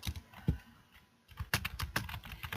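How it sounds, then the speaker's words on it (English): A computer keyboard clicks quietly with a thump, then short bursts of quick keystrokes come in an uneven rhythm. "No, I was just typing to Andrew."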